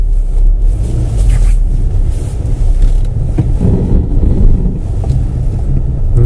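A Hyundai Santa Fe on non-studded Nokian tyres drives hard up a diagonal off-road slope, giving a loud, steady low rumble of the engine and tyres with wind buffeting the microphone.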